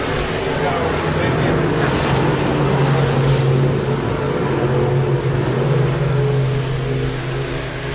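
Modified race cars battling for the lead through turns three and four at Park Jefferson Speedway, a steady loud engine roar filling the track throughout with a crowd or announcer murmur underneath.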